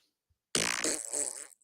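A single loud, close fart during a walk, a buzzing burst of about one second that starts abruptly after a moment of silence and stands alone.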